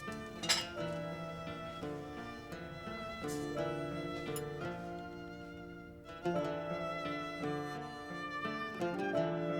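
Dishes are handled in a kitchen, light clinks and clatters of plates and cutlery scattered over a soft musical score, with no talking.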